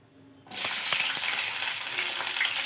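Onions dropped into hot oil for a Thai chilli chicken dish, a sudden loud sizzle bursting in after a quiet moment and holding steady with faint stirring clicks, no speech.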